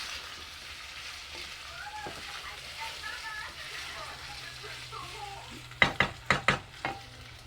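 Seasoned sauce for crispy Atlantic salmon with lemon butter garlic stirred and sizzling in a pan, a steady soft fry with spoon scrapes, then a quick run of four or five sharp clinks near the end.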